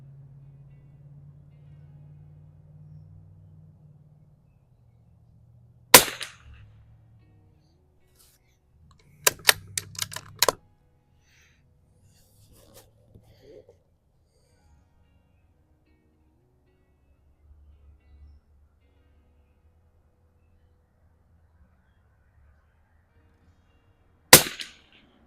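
Scoped rifle fired at an outdoor shooting range, with three sharp, loud gunshot cracks spaced far apart and a faint low rumble between them.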